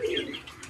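Pigeons in a new cage, feeding on grain, give a single soft, low coo at close range, brief and fairly quiet, with no speech.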